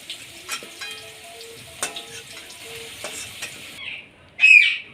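Meat sizzles steadily in hot oil in a pan, with scraping stir strokes and occasional sharp clinks, the frying noise continuous and close before a brief louder clatter near the end.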